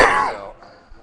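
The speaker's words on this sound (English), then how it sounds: "Sorry about the cough." A single rough cough close to the microphone, loud at first and fading quickly into quiet.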